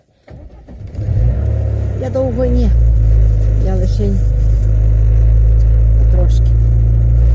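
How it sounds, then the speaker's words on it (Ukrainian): A parked car's engine starts and settles into a steady, loud idle as it warms up on a cold day, with someone speaking briefly over the running motor. "Машина стояла не від ранку і вже треба прогріти чуть-чуть."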